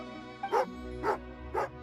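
Three evenly spaced barks from a dog in a video game, clear and close, each a short sharp yap over a soft musical backdrop.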